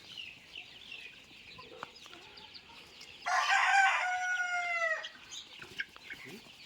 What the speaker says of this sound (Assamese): এইখিনি মই নেট মাৰি বাহিৰত মেলি সিহঁতক পুহি আছোঁ।